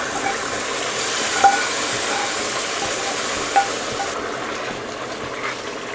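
Hot tempering of fried onion, garlic and dried chili is poured into dal, setting off a steady close sizzle and bubbling with a couple of sharp pops, the hiss fading slightly toward the end.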